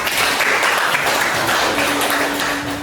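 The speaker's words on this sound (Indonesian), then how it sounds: "Tepuk tangan untuk kita semua." Junior high students in a classroom at SMPN 5 Negara give a round of applause after a math lesson, a brief, steady burst of clapping that stays close and fairly loud throughout.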